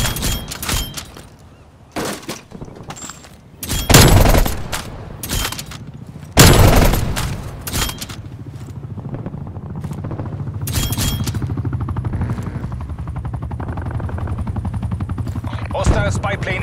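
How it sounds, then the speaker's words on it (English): Video game combat with an enemy attack helicopter overhead: loud bursts of automatic gunfire and heavy booms strike repeatedly in the first eight seconds, then give way to a steady rotor-like drone with scattered shots. "Enemy attack helicopter above."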